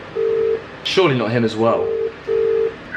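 An outgoing phone call rings out, with a steady electronic ringback tone sounding twice. A person speaks briefly between the two tones.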